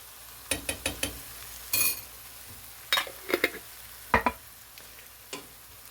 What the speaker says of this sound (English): Stir that in, and you can see now it's getting fairly dry.